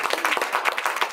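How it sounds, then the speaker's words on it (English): An audience at a book launch claps in a short, dense burst of applause, close and fairly loud, with no speech over it. "Can we give her a round of applause?"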